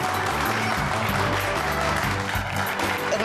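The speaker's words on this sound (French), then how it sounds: "Je vous demanderai d'applaudir bien fort pour eux." Guests at a party clap steadily for the opening dance of a father and mother, the applause continuous under background music.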